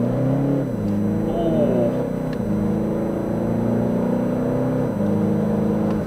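Tuned Toyota Fortuner 2.4 diesel SUV pulling away from first gear, a steady low engine drone rising slightly in pitch from inside the cabin, continuous and moderately loud with no talk.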